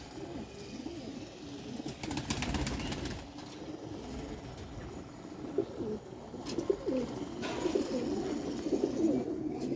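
Pigeons on a rooftop loft cooing in low repeated calls, with scattered chirps and a brief burst of wing flapping, moderately close and continuous throughout.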